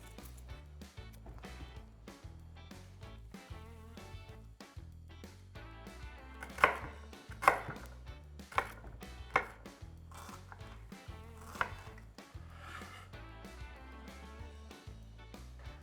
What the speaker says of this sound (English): And now we cut the ginger.